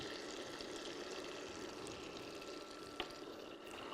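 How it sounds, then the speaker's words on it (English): Fresh sage leaves added to melting butter in a pan, giving a faint, steady sizzle and crackle with a small clink near the end. "Once the butter has started to melt, we're going to add our sage."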